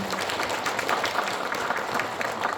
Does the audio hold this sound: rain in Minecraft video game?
no